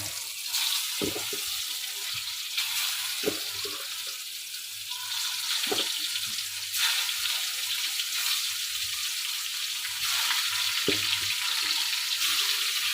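Eggplant frying in oil in a wok, a continuous close sizzle running throughout with occasional soft clinks and knocks, no talking.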